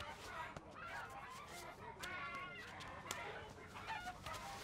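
Chickens cluck and squawk continuously in a busy, noisy setting, with overlapping bird calls and faint background voices.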